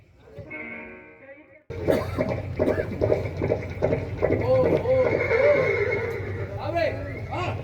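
A horse whinnies several times, loud and close, with hoof clops and people talking over it; a brief separate sound precedes it.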